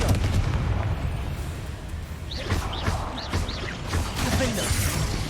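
Confringo fire spell in the video game Hogwarts Legacy, heard as a loud rumbling blast that is followed by several rising whooshing bursts and crackles, with game noise continuing underneath.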